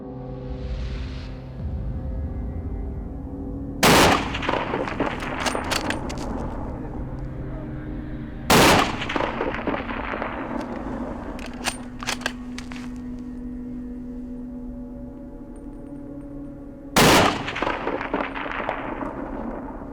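Three loud, sharp rifle shots fired at a bull elk during a post-rut hunt, spaced several seconds apart, each cracking out and echoing across open country over a steady wind-like background.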